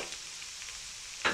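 Chopped green pepper and potatoes fry in a pan with a brief, quiet sizzle. A short scrape or stir stands out at the very end, and no one speaks.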